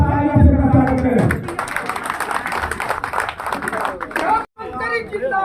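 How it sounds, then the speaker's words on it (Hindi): A rally crowd in Purnia claps to welcome a minister, with dense applause and chatter at the start that gives way to busy crowd noise and scattered voices. "मैं कहूँगा आप तालियों से स्वागत करें"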